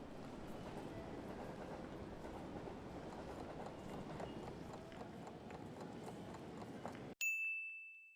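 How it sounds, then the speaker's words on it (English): Ambience of a train station platform: a low, continuous rumble with scattered clatter runs for about seven seconds, then a sudden bright chime rings out and fades. "You are on a platform at a train station where you're waiting for your train."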